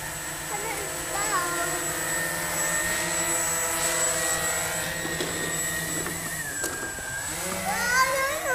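Small quadcopter drone descending to land outdoors, its steady high-pitched rotor whine holding loud and close throughout, with stacked tonal harmonics shifting slightly as it slows and touches down; a voice speaks briefly over the buzz.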